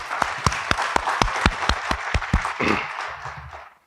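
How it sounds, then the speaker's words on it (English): A small audience at an executive round table claps briefly, with distinct sharp claps in a quick, uneven rhythm that thin out and fade after about three seconds. "A brief round of applause."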